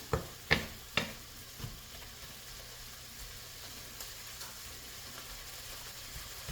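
Steak sizzling in a pan for Philly cheesesteak rolls, a faint steady frying hiss with a few sharp clinks and scrapes of stirring near the start, then quieter gentle crackling.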